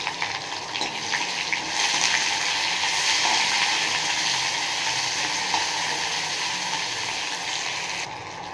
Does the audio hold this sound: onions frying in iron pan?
yes